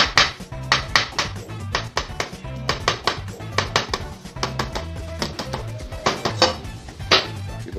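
Hard-boiled free-range egg shell tapped against a hard surface, a quick series of light, close clicky knocks coming in irregular bursts, fairly quiet with no talk.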